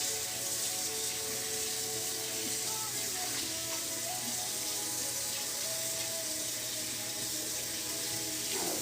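Water running steadily from a tap as tie-dyed shirts are rinsed in a sink, a continuous close splashing wash with no talk.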